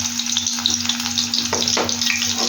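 Garlic hits hot oil in a frying pan while cooking a drumstick-leaf and egg side dish, giving a steady, close, bright sizzle with light stirring scrapes throughout.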